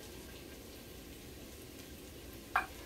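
Fresh chopped garlic sizzles in a pan as Cajun dirty rice is cooked, a steady soft frying hiss holding throughout with a brief louder crackle near the end and no talking.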